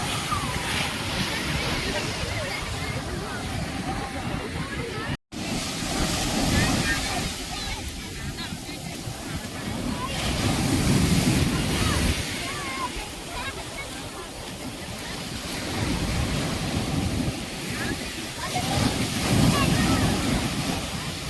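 Ocean waves break and wash in at Chennai's Golden Beach as a loud, continuous roar with slow surges, mixed with gusting wind against the microphone.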